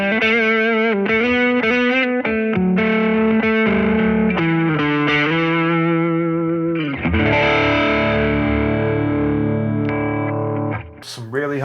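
A Schecter Reaper 6 electric guitar through its middle humbucker position plays a higher-gain distorted tone, with choppy riffing followed by a long sustained chord ringing out, loud and close.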